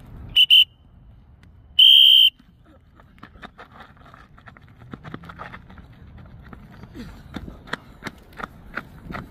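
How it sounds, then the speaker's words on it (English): At football practice, two sharp whistle blasts sound, the first a short double toot and the second a longer blast, followed by footsteps and light thuds of players running. "All right, two whistles,"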